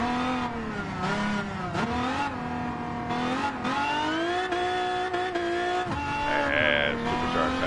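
Race cars roar in a racing video game, with sustained revving engines rising and falling while tires squeal as a supercharged car struggles for traction, loud and continuous throughout.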